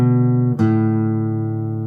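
Two plucked guitar notes follow each other, the second struck clearly and left to ring and slowly decay. Close and clear, nothing else playing.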